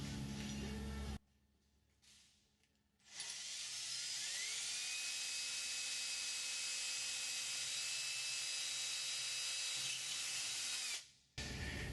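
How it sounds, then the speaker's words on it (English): A high-pitched power drill with a long flexible bit whines steadily for several seconds, stopping briefly and starting again, close and loud with a spinning, grinding tone, drilling holes in an aircraft tail kit. "the long drill bit comes in very handy"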